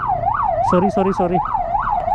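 Vehicle siren wailing in a repeating rising and falling sweep, close and loud, with a person speaking briefly over it.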